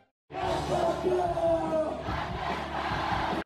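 A group of people cheers and yells together in a loud burst of voices, whooping for about three seconds before cutting off abruptly.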